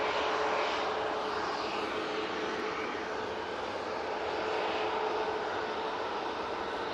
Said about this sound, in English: 737-800, off to Palma de Mallorca.